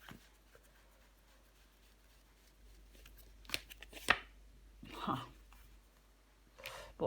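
Tarot cards are handled, shuffled and drawn in soft, faint rustles and brief flicks, with a few louder slides and snaps scattered across the stretch.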